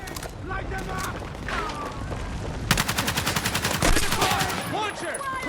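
Battlefield 6 campaign gunfire, with rapid machine-gun bursts and scattered shots in a close, loud firefight, and voices calling out over the shooting.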